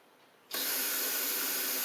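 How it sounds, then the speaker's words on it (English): After a quiet moment, a can of carburetor cleaner suddenly sprays in a loud, steady hiss that continues unbroken until the end, on a Toro Z2550 zero-turn mower with a seized engine. "Little carb spray."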